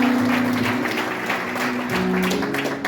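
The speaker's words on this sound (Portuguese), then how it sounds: "Vamos aplaudir ao Senhor por isso," A church congregation claps together at a Sunday service in Manchester, a dense, sustained burst of applause filling the room from start to finish, with faint voices mixed in.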